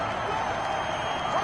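A stadium crowd cheers and applauds steadily in a PS4 football video game, a dense, even wash of noise with no break.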